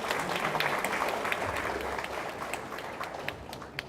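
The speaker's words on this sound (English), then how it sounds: "A round of applause for this community." Steady applause from a crowd, fairly quiet and distant, with scattered sharper claps standing out as it gradually tapers.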